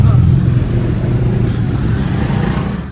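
A motorbike carries a rider and passenger along a road, its engine droning steadily and loudly with rushing wind noise and no pauses.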